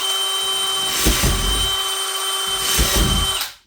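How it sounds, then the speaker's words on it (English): A power drill set in first gear bores into PVC pipe with a steady high motor whine, loud and close, swelling twice under load before it cuts off. "Seems kind of silly to put the thing down into first gear for drilling PVC"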